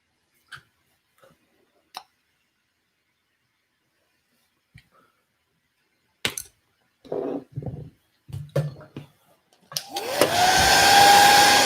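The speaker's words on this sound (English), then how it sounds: "Sorry for the hairdryer in advance." Hair dryer switching on near the end and blowing loudly with a steady whooshing whine, after mostly quiet moments of scattered clicks, taps and small handling noises.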